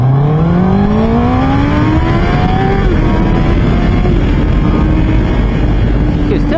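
A Honda CB1000R motorcycle accelerating hard, its engine note climbing steadily through the gears, loud and close with wind rush throughout.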